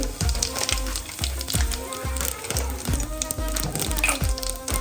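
Cumin seeds and asafoetida crackle and sizzle in hot oil with a dense, bright frying hiss. Regular low thumps repeat through it, and no one speaks.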